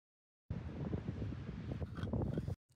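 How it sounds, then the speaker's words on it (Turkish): Strong wind buffeting a microphone outdoors, a dense rumbling roar for about two seconds, loud and close, with no talk over it. "Rüzgar aşırı esiyor, farkında mısın?"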